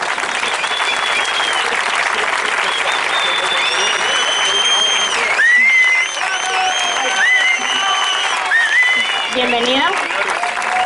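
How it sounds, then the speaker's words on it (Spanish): Loud, sustained applause from a crowd welcoming a guest at a political rally for a European green party in Madrid, continuous throughout, with cheering voices and some talk rising over it toward the end. "Un fuerte aplauso para ella."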